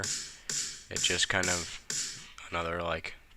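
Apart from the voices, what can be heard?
No distinct noise like a dog, phone or traffic.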